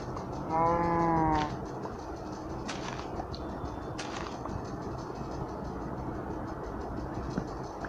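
A cow moos once in the Minecraft video game, a short harmonic call near the start, followed by a few faint clicks and steady background noise, with no talk.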